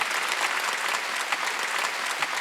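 A church congregation at a Sunday worship service applauds, a full, even wash of many hands clapping together, steady and somewhat distant for the whole moment.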